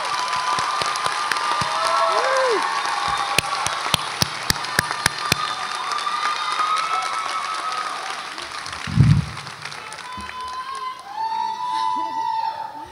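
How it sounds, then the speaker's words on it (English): A nursing graduation audience stands, applauds and cheers for family and friends. Sustained, dense clapping crowd noise runs throughout, with scattered sharp claps and whoops, one louder burst near the middle, and voices heard faintly under the applause. "would you stand and clap and give some love and some thanks to your family, friends"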